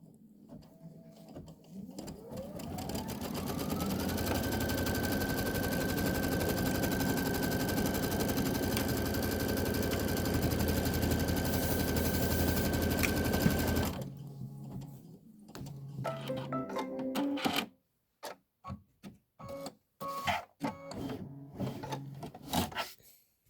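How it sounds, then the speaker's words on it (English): Embroidery sewing machine running a long steady stitching pass to place batting on a quilt block, loud rapid mechanical whirr that stops, followed by scattered clicks and shorter bursts of stitching. "That's your batting placement stitch."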